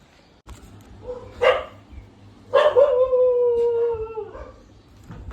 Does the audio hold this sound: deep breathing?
no